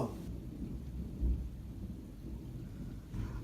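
Rumbling thunder in a Massachusetts thunderstorm with rain, a continuous low roll with a brief deeper boom early on, heard at a distance under steady rainfall.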